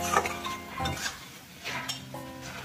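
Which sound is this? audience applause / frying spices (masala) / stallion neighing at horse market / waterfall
frying spices (masala)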